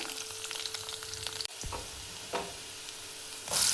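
Cumin seeds dropped into hot oil sizzle and crackle steadily up close, with a sharp knock partway through and a louder hiss surging at the end.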